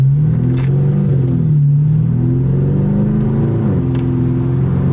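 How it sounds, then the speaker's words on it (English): A 2018 Audi S6 with new intakes accelerates in sport mode, its engine rumbling and rising in pitch as the turbo spools, loud and close from inside the car, with one brief shift-like dip. "Let's hear this turbo spool."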